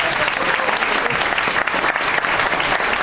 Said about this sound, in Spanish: Un aplauso para Mami.